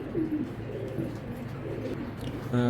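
Racing pigeons coo in low, throaty rolls, several soft calls close by over a faint background hum.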